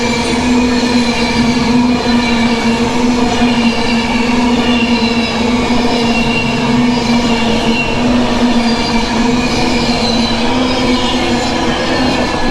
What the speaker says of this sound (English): That makes a change, doesn't it? Train's running.